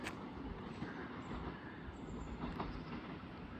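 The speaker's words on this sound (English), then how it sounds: "As we got a Thameslink service coming through." A Thameslink passenger train on a Brighton to Cambridge service runs through South Croydon station on the Brighton Main Line, making a steady, close rumble and rolling wheel noise throughout with no voices.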